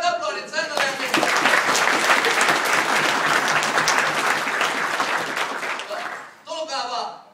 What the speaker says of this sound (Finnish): Kannattaisiko laittaa raikuvat aplodit Sannalle ja Minnalle?